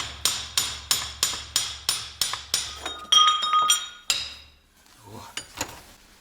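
Steady metal hammer blows knocking out a seized copper bushing from an aluminum housing, about a dozen evenly spaced sharp clinking strikes, close and loud, then a brief rattle and a few scattered taps.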